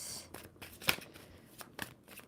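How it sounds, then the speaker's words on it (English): Tarot cards shuffled by hand: a few quick, quiet riffling bursts with brief pauses between them, with no talking. "2 more shuffles for Virgo."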